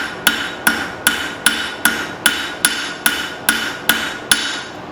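Steady hammer blows forge a knife blade from an old file on an anvil: about ten sharp, ringing metallic strikes at an even rhythm, loud and close, with no voices.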